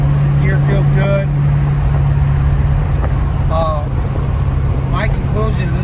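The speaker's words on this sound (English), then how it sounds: "Let's get into 5th gear real quick." A 1991 Ford Mustang street and track car pulls in fifth gear, giving a steady loud engine drone with a sustained low hum throughout while someone talks over it.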